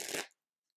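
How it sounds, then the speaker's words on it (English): A tarot card deck being shuffled, a single quick, smooth riffle of cards lasting a fraction of a second, close and clear, then silence. "It's just a very, very smooth shuffle."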